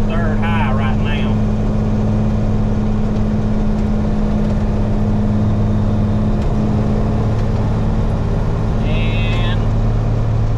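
An International 4900 truck with a 5-speed and two-speed rear axle cruising in third gear high, a loud steady low engine hum filling the cab, with two brief chirps of other noise over it.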